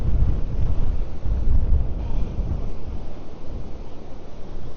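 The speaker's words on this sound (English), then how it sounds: "it is very windy" Strong wind buffets the microphone on an open beach at Borth, a loud, continuous low roar with gusty swells and no voices.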